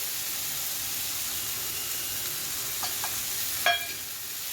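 Tomato with chili powder, turmeric and salt cooking in a pan for a cauliflower and potato dish, sizzling in a steady hiss with a couple of soft stirring scrapes and a brief clink of a spoon near the end.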